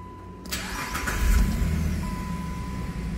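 Jeep Liberty with an ignition switch fault cranking as it tries to start, a loud close engine turning over after a click, with a steady whine in the background.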